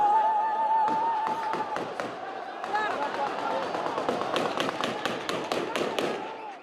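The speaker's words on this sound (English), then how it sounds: "A lot of celebratory gunfire, people now just flooding in." Celebratory gunfire crackles outside a Syrian prison as crowds surge in: a rapid run of sharp, loud bangs and clustered bursts, with crowd noise and voices mixed underneath.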